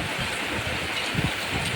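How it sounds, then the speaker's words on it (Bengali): Sudden heavy rain pours down in a steady, dense wash of noise, close and continuous with no break across the short stretch. "আজ হঠাৎ বৃষ্টি চলে আসলো মশল ধরে বৃষ্টি দেখেন এত বৃষ্টি হঠাৎ করে"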